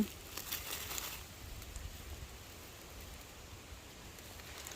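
Rain falling on a home garden where mushrooms are being gathered, a steady soft patter and hiss that starts heavier for the first second, then settles into an even, continuous wash with no talk.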